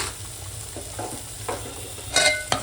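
Masala paste mixed with tomato and salt cooks over low heat in a pan, making a soft steady sizzle. Intermittent scraping stirs come through, with a sharper clatter near the end and no talk.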